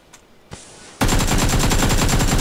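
Sustained rapid automatic AK rifle fire in the video game PUBG, loud and close, a dense unbroken burst that starts abruptly after a couple of faint clicks.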